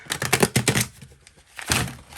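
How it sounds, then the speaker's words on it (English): Tarot cards being shuffled by hand, slightly narrower than standard cards: a quick burst of riffling snaps and crisp flutters, a brief pause, then another short rustle of cards, close and alone. "shuffle some cards here."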